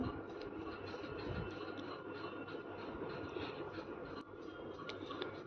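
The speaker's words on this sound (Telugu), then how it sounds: "ఇది చిన్న ట్రైన్ అన్నగానే కొంచెం పెద్దదే" A small amusement ride train at an exhibition ground rumbles steadily nearby with a continuous rolling clatter and faint squeaks, fairly quiet and without talk.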